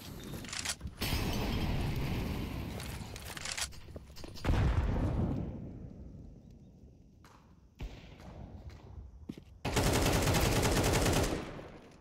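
Bursts of rapid gunfire in a Counter-Strike 2 match on the Ancient map, loud automatic volleys separated by quieter stretches of footsteps and ambient game noise.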